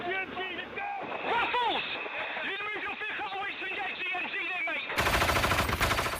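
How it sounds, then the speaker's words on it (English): Grenade machine guns firing during fighting against the Taliban in Afghanistan, rapid bursts of reports under steady narration, ending in a louder, denser stretch of gunfire with wind noise. "the weapon the Taliban really hate, the grenade machine guns"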